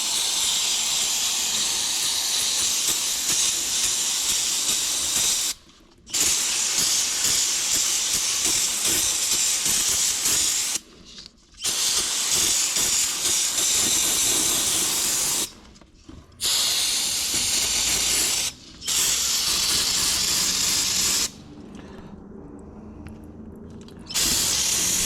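Aerosol brake parts cleaner sprayed in long loud hissing bursts to rinse thick oil off the underside of a Z31 300ZX, five sustained blasts broken by short pauses, the last one weaker.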